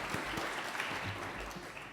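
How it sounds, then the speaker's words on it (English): Applause from the crowd at a children's cancer clinic renaming celebration, a short, moderately faint burst of many people clapping together, steady over two seconds. "round of applause for that"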